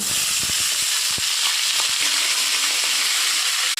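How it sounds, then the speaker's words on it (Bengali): Cashews, cardamom, cinnamon and cloves frying in butter give a steady, close, loud sizzle with scattered pops and crackles throughout, and no voices. "এগুলোকে আমরা সব একসাথে আমরা বাটারে ফ্রাই করব"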